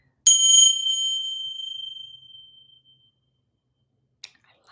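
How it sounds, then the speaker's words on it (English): Tibetan bells struck once, a bright clean chime that rings out and fades slowly over about three seconds, followed by a faint click; close and clear with no voices. "I've got my Tibetan bells here. I love these. They have such a nice, clean, crisp energy."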